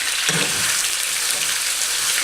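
Pieces of meat frying in a pot for Afghani Qabali palao, giving a steady, bright sizzle close by that runs evenly throughout with no talking.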